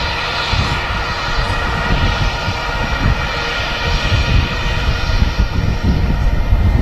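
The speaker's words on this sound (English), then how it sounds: "Another British Airways shuttle service coming in." A British Airways shuttle airliner flies in to land at Manchester Airport, its loud, steady engine roar filling the air nearby and building slightly toward the end, with no voices.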